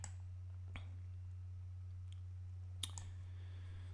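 A computer mouse gives a few sparse, quiet clicks, one near the start and a sharper one later, over a low steady electrical hum in a quiet room.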